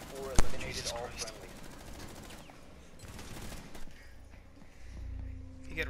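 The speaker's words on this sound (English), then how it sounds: "The UMP sounds really nice suppressed" Suppressed UMP submachine gun fire in Rainbow Six Siege, muffled rapid bursts with one sharp impact early, amid in-game action while people talk.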